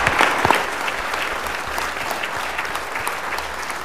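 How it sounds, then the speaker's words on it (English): A round of applause from the audience at a Los Angeles City Council meeting honoring a councilmember, a steady wash of many hands clapping that peaks at the start and carries on evenly, with no voices over it. "A round of applause for Councilmember Holden."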